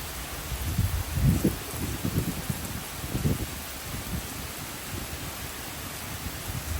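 Summer rain falls steadily outdoors in Michigan, a soft, even hiss of drops with a few slightly louder rustling swells early on, no talk.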